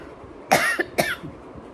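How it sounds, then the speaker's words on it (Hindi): Two quick, close coughs from a woman in the middle of a speech, sharp and brief, with quiet room tone before and after. "अचानक से खांसी शुरू हो गई"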